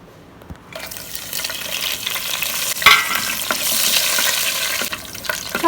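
Potatoes drop into a hot oiled wok and burst into a loud, close sizzle after a moment of quiet, crackling steadily with occasional stirring scrapes.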